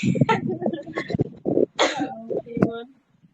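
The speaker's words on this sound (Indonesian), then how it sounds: "aku mau batuk. Batuk dulu." A woman coughing several times in quick, rough bursts with some throat clearing, close and loud, with short breathy pauses between the coughs.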